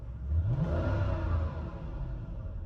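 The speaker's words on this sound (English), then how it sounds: "I know you shouldn't rev them cold, but..." A 90s Japanese V8 engine, still cold, revs up and settles back in a smooth, low, close rumble with a brief rising whir. No voices are heard.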